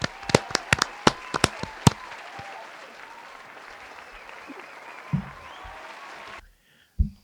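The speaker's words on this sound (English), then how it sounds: "So give him a round of applause" An audience claps in a short burst at a comedy podcast, sharp loud claps for about two seconds that thin into a softer scattered patter and then stop, with a couple of faint thumps afterward.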